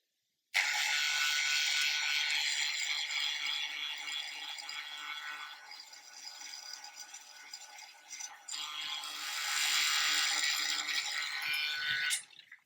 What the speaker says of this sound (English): So we're going to start by drilling a hole in it